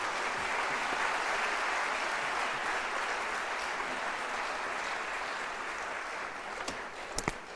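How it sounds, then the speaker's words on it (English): Sustained applause from a large audience at a national dialogue convention held at UNISA in South Africa: dense, steady clapping that fills the hall, with a few sharper claps standing out near the end. "A louder round of applause."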